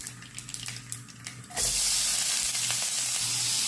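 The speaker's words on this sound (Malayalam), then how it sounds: "ഇവിടെ കടുക് പൊട്ടി നമുക്ക് അതിലേക്ക് സവാള ആഡ് ചെയ്ത് കൊടുക്കാം." Mustard seeds crackle faintly in hot oil, then onion goes into the pan and a loud, sudden hiss takes over and holds steady to the end, near and without talk.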